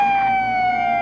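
Sirens for sinking boats in a war video game hold a steady, high, slightly wavering tone with overtones, loud and continuous through a brief moment, with no talk over it.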